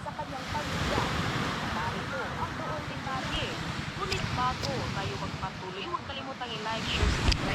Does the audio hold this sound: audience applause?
no